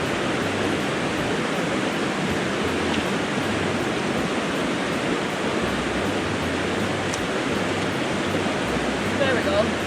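The current at the Eau Claire Gorge waterfalls rushes in a loud, unbroken roar of white water, filling the whole span evenly with only faint traces of other sounds on top.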